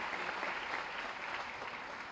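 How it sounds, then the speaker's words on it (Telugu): An indoor audience at an awards event claps for a Kalaratna award winner, a steady, full wash of applause from many hands that holds evenly for about two seconds, with no voices over it. "so let us clap for her"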